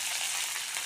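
Curry leaves hiss and crackle in hot oil for mango rice, a dense, steady, bright sizzle up close with no voices, lasting under a second.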